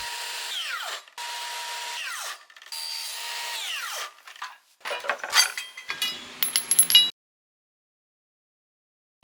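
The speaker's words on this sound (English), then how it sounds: "I'm cutting out the 15mm aluminum framing, which will serve as the main body of the lamp" Power tool cutting 15mm aluminum framing for a lamp body: several loud whining cuts with rising and falling pitch, separated by short pauses, ending in rougher screeching bursts and sudden silence, close and without talk.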